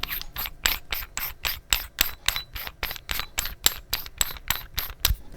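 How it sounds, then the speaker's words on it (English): A lid screwed onto a CO2 cartridge launcher gives a rapid series of about twenty sharp, evenly spaced ratcheting clicks up close, with no speech. "First, you slide in your CO2 cartridge, screw the lid on,"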